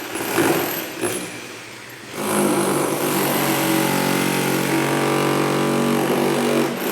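An electric grinder whines steadily at a grotto renovation site, loud and close, with a brief dip before it runs again at full speed.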